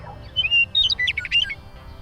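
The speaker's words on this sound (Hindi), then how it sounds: "तभी उसने झाड़ी में एक अजीब सी चिड़िया देखी।" A small bird chirps and squawks in quick high bursts, close and clear over a low steady hum, used as a sound effect in an animated Hindi children's story.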